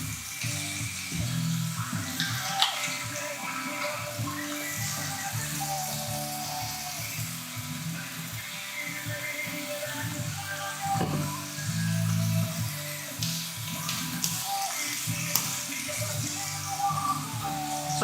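Pork chops searing in hot oil give a soft, continuous crackling sizzle that runs steadily throughout, with scattered pops and faint kitchen clatter in the background.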